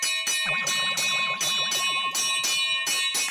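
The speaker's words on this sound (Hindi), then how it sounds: "अरे मंदिर की घंटी है भाई, कोई फायर ब्रिगेड की घंटी नहीं है कि लगातार बजाए जा रहे हो।" A temple bell rung over and over during aarti, bright metallic strikes repeating in a steady, insistent rhythm, loud and close with no talk over it.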